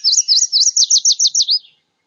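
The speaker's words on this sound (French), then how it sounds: "le son d'un oiseau, on peut penser que c'est des gazouillis, comme celui-là, comme celui de la paruline jaune" A yellow warbler sings a bright, close series of about eight quick, sweet chirped notes in a rising, then accelerating trill that stops abruptly and leaves silence.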